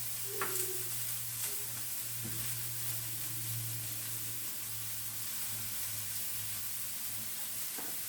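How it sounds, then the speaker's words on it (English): Shallots sauteing in heated oil in a pan, a faint, steady sizzle and hiss with a low background hum and a few light clinks. "We already have some oil that's heated up to temperature for the shallots to saute in."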